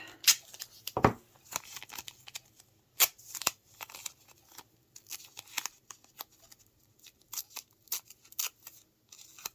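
Adhesive tape pulled from a roll and cut, heard as a few quiet, sharp ripping and snipping bursts spread across an otherwise hushed background, with no talking.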